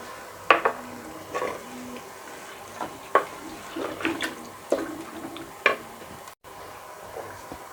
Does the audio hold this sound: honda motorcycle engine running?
no